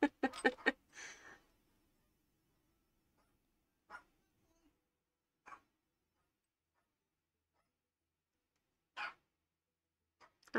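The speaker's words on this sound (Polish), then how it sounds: "A mi pies za ścianą, czy za ścianą, za drzwiami szczeka." Muffled dog barks from behind a closed door, a quick cluster of loud yaps followed by a few isolated single barks spread apart, fairly distant and hollow-sounding.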